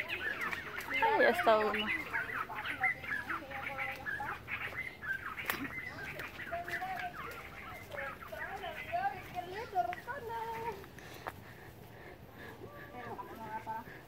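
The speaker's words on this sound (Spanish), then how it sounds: "Escucha a los pajaritos como cantan." Small birds chirp and sing outdoors during a cucumber harvest. Their calls are fairly close and scattered, heard under and between someone talking.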